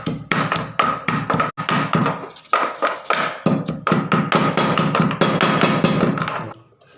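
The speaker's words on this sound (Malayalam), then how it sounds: "ഇതിൽ ഒരു നാലല്ലിയും വെളുത്തുള്ളി ഇടുക അതും കൂടി ഇതിന് കൂടെ ചതച്ചെടുക്കുക" Garlic cloves are crushed with a pestle in a mortar, producing a close, steady run of sharp pounding thuds and taps at a brisk, uneven rhythm that continues almost without pause.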